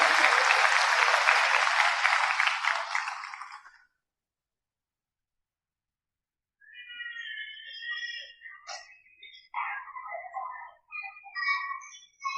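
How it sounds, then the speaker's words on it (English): Audience applause at a convocation ceremony, a loud burst of clapping from a seated crowd that fades out after a few seconds, followed by silence and then scattered faint sounds. "Requesting all to please have a big round of applause for sir."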